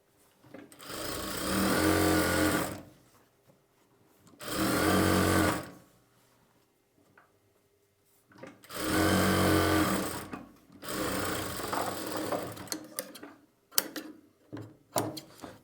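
A sewing machine stitches the lining onto a blouse sleeve in four short runs of close mechanical whirring, separated by quiet pauses, followed by a few light clicks and taps.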